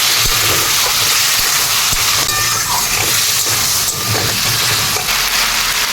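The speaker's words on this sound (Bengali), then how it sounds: "এই বাটা মশলাটা দিয়ে দিচ্ছি অল্প জল দিয়ে দেবো ভালো করে কষে নেবো" A ground spice paste of cumin, mustard seed, fennel, green chili and ginger sizzles loudly in a pan with a little water, a steady close hiss with faint stirring scrapes throughout.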